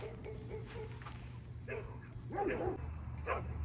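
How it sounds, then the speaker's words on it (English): Several dogs bark and yip in short bursts at a moderate distance, faint and irregular against a quiet outdoor background. "The dogs are going crazy."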